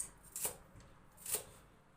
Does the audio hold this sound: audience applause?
no